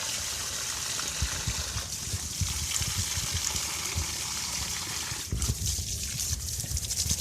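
Water trickling and splashing as potted garden plants are watered, a steady close pour with a brief pause before it resumes.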